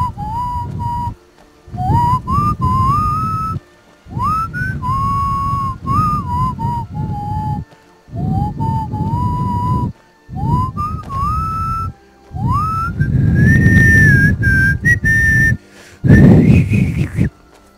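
A person whistles a wavering tune in short phrases, loud and close, broken by pauses, with a low rumble of Skyrim gameplay underneath.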